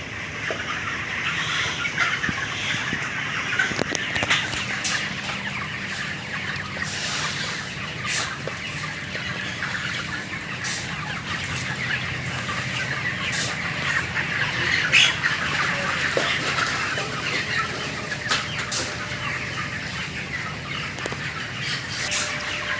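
A crowded flock of broiler chickens on a poultry farm clucks and squawks nonstop, the calls overlapping into a steady barnyard din with sharper squawks now and then.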